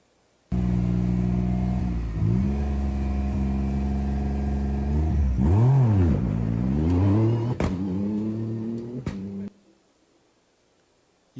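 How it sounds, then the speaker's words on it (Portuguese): Rally cars from national and international teams roar off the start line on the third day of Rally dos Sertões in Brazil, engines revving loudly and continuously with rising, falling pitch as vehicles pass close by, then cutting off. "Esses são os carros dos competidores nacionais e internacionais."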